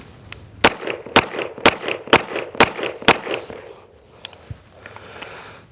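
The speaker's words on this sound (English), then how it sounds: "Six shots, 437 clean." Six sharp pistol shots from a CZ Shadow 2 fired in quick, even succession during a carry optics drill, then a couple of fainter clicks and quiet movement afterward.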